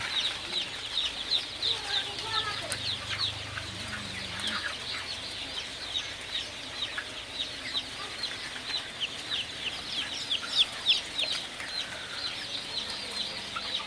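Dense chorus of many Sonali super hybrid chicks, around 1,500 in a poultry brooding house, chirping and peeping continuously at close range, with occasional clucks and wing flutters in the mix.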